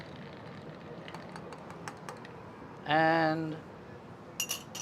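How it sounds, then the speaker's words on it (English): A bar spoon stirs an Old Fashioned with scotch in a glass, giving faint, rapid clinks and ticks close by. A brief spoken word cuts in near the end. "We're just gonna give it a little stir."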